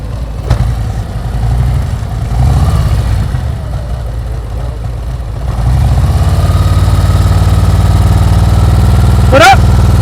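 A motorcycle engine idles with a low, steady rumble during slow-speed riding practice in Florida, growing louder partway through, with a short sharp squeal near the end and faint voices at the start.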